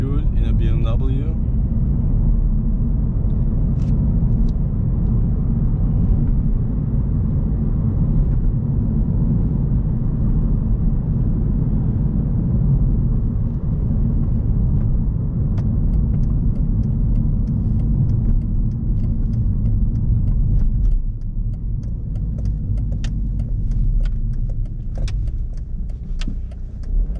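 A BMW 318d E46 on a test drive, heard from inside the cabin: a steady, loud low engine and road rumble runs throughout, with faint clicks and rattles near the end.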